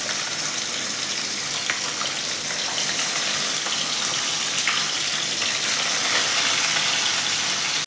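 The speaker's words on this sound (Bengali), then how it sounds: "তেলটা আমার গরম হয়ে গেছে, এবার এর ভেতরে মাছগুলো দিয়ে আমি ভেজে নেব" Fish pieces for kofta curry frying in hot oil, a continuous hissing sizzle at moderate level, steady throughout without talk.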